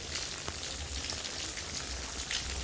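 Steady rain falls and patters evenly on surfaces outdoors, a dense hiss with scattered individual drop taps and no voices over it.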